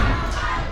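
Crowd noise at an amateur wrestling show in Summerdale, a dense, loud wash of voices cheering for wrestler Pat Dynamite during his match, sustained and steady.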